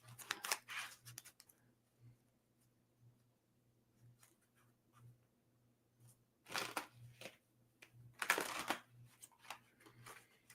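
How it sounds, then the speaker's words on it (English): Two bursts of rapid riffling, a deck of cards being shuffled up close, separated by quiet stretches with a faint steady low hum underneath. "Let me get a good shuffle here and mix them up good."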